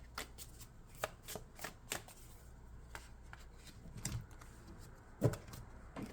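Tarot cards are shuffled in a steady run of soft, quick riffling flutters, close and fairly quiet, with a few sharper slaps of the deck and no talking.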